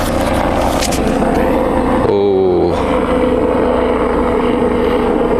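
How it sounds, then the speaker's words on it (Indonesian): Helicopter passing overhead gives a loud, continuous rumbling roar with a brief shift midway, while a voice makes a short exclamation. "Sekarang kita ada helikopter."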